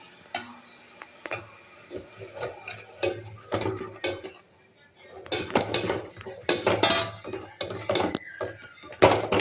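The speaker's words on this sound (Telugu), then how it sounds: "వేడైన వాటర్లో ఈ పిండి వేసి కలుపుకున్నాం" Jowar flour being stirred into hot salted water in a pot for beetroot carrot roti, with irregular scraping and clinking knocks of a utensil against the pot, close up.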